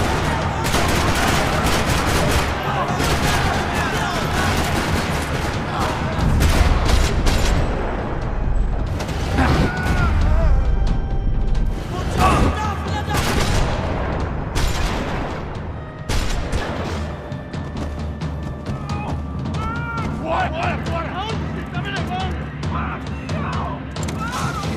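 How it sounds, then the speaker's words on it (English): Dense, continuous gunfire from Max Payne 3 rattles through a parking lot shootout, with rapid bursts, heavy blasts and crashes layered into a loud, chaotic barrage. "Another parking lot rattling with gunfire."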